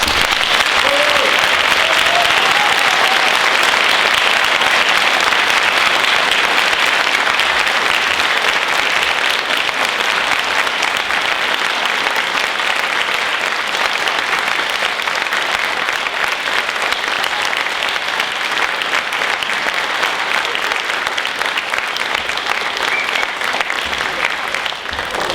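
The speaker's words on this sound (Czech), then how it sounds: "já pro něj prosím velký potlesk" A large school audience claps at length after a Christmas musical performance, a thick, loud, even wash of applause sustained for the whole stretch with no voices standing out.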